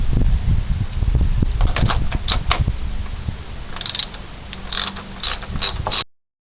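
Ratchet clicking in quick bursts while loosening fan shroud bolts on a Ford 400 engine in a 1978 Continental Mark V, close metallic ratcheting with short pauses between runs.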